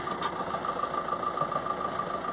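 A car engine idles steadily nearby, a low continuous hum with a faint constant tone running underneath, with no talk over it.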